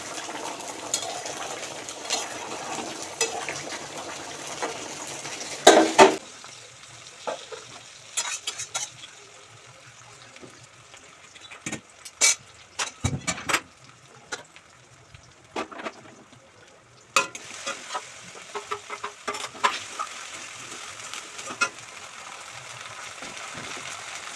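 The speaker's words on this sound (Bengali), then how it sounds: "এখানে দেখো মাছের ঝালের মশলা কষানো হয়ে গেল" Spice paste for a Bengali fish curry being stirred and fried in a pan, with uneven scraping strokes of a spoon against the metal over a low, intermittent sizzle that comes and goes in bursts.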